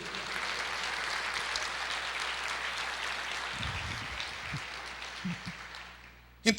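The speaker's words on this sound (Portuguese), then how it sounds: "aplauda o Senhor" Congregation clapping in a church service, a soft wash of many hands that slowly fades, with a few low murmurs near the end and a sharp thump just at the close.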